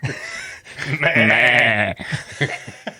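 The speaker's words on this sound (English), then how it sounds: "Sheep are not happy about it either." Sheep bleating, a long wavering bleat near the mic lasting about a second, with shorter animal sounds before and after.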